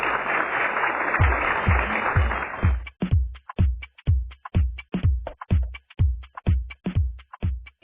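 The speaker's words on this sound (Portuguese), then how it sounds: "Uma salva de palmas para nós" An audience at a Telex Free presentation breaks into dense applause that, after about three seconds, turns into loud, evenly spaced unison claps in a steady rhythm, heard alone without talk.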